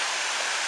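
Powerful river water crashing at the Antankallo waterfall, a loud, steady broadband roar with no break, filling the whole moment.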